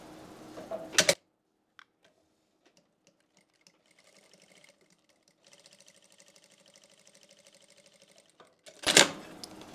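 A sewing machine stitches along a folded belt in a quiet, rapid mechanical patter, muffled and faint, between two louder bursts of handling noise.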